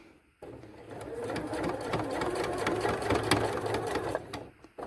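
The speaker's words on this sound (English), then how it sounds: "take two stitches towards you, and then do your third line of stitching" A sewing machine stitches a line in one continuous whirring run of close, fast needle chatter lasting about four seconds, starting and stopping abruptly.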